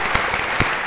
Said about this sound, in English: applause one more time